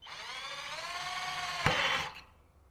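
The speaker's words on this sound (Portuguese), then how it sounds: "Vamos com a broquinha menor para ver o que acontece." A smaller drill bit boring a hole with a steady high whine that rises, peaks in a brief louder burst near the end, then stops and fades, heard alone and close.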